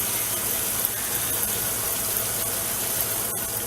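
Makeup brush rinsed under running water over a cleaning pad, a steady, loud gush of tap water with faint scrubbing and clicking textures throughout, close and without speech.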